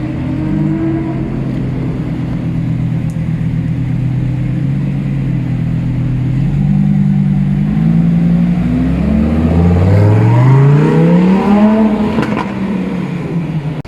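A Lamborghini Huracan STO drives through Los Angeles traffic. Its engine drones steadily and loud, then climbs in pitch as it revs and accelerates near the end, with no voices over it.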